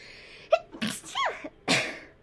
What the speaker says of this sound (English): I have a sneeze coming up